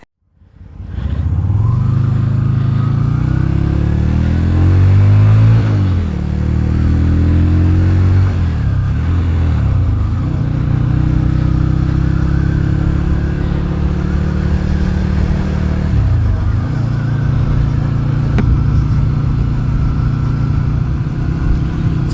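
A Yamaha XV250 bobber motorcycle fitted with a 17-tooth front sprocket on a test ride: a loud, steady engine drone with repeated rises and dips in pitch as it accelerates and shifts gears, close to the microphone throughout.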